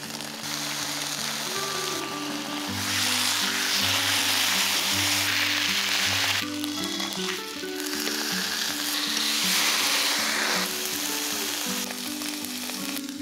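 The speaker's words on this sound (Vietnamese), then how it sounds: "lấy thịt ra và cho vào chảo để làm săn phần da cũng như là phần thịt. Không cần cho dầu nha các bạn" Pork pieces sizzle and fry in a hot pan with no oil, a loud, steady crackle that swells and eases while the meat is turned, with no talking.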